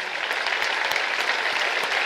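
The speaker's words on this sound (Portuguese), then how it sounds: "Vamos dar uma salva de palmas a quem merece." Congregation clapping during a Portuguese-language communion service in church, loud, dense and sustained applause with no break.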